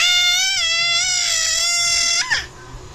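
A voice imitates a dog with one long, high, wavering cry that is loud and close, then drops sharply and breaks off into a short tail.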